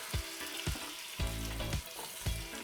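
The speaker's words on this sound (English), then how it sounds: "Let's start browning the meat, eh?" Meat browns in olive oil in a pan with a loud, close, continuous sizzle, punctuated by several dull knocks and scrapes as it is moved about.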